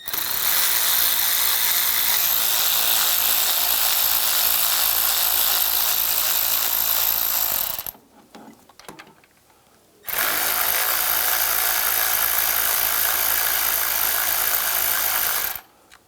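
A power tool loosens bolts on a 2013-2016 Dodge Dart 2.4L CV axle, a loud, continuous close whirr running about eight seconds, a brief pause with faint clatter, then another long burst.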